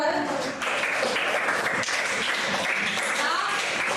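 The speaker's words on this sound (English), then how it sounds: "clapping for her." A class claps for a student, a continuous patter of applause for about four seconds, with voices chattering over it.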